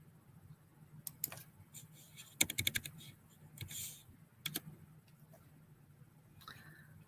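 Typing on a computer keyboard, a few short bursts of key clicks spread irregularly through a quiet room, close and fairly soft.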